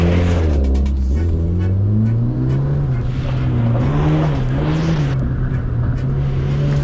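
A car in a deadly race challenge, its engine a loud, close, continuous drone that climbs in pitch and then holds as it keeps accelerating, heard without any talk.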